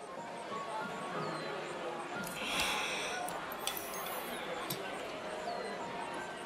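A dog gives a few sharp barks and yips at moderate distance over a steady noisy background, the loudest burst coming midway.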